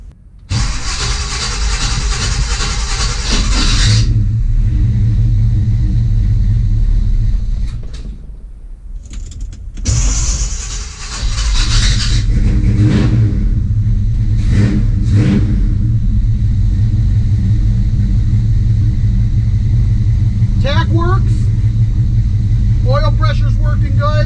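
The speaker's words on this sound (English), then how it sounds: "Let's fire it up." A 1972 Chevrolet C10 pickup truck engine, with no choke hooked up, cranks, catches and revs loudly, dips briefly, then roars back and settles into a heavy steady rumble.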